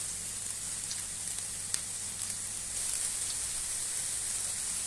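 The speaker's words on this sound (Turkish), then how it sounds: "Biberlerimiz kızarsın." Peppers, eggplant and onions frying in oil in a pan, a steady, even sizzle and crackle with a few brief pops, close and constant throughout.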